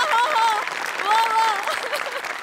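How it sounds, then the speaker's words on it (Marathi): Applause from a studio audience at a Marathi comedy sketch show, many hands clapping steadily beneath a host speaking expressively over it. "म्हणजे बनेसाठी टाळ्या"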